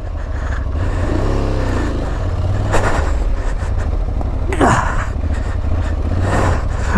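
An Aprilia Tuareg 660 motorcycle engine revs loudly up close while off-roading, rising and falling in bursts over a steady rumbling idle.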